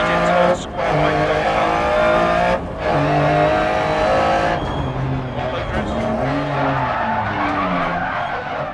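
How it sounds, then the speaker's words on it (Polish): Lancia Stratos rally car in Dirt Rally spins out, tires skidding and squealing over a loud revving engine with shifting pitch. "Zakręca nam ten samochód cały czas e,"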